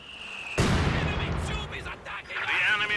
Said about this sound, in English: the mortar is actually going to start bounding my position here